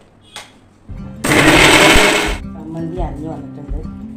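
A mixer grinder whirs loudly for about a second while grinding chammanthi chutney for dosa, a harsh buzzing burst that starts abruptly and then cuts out, with quieter kitchen clatter and voices around it.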